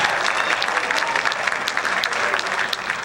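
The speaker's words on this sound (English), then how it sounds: "Give them a huge round of applause." A school jazz concert audience gives a steady, dense round of applause, many hands clapping continuously at close range throughout.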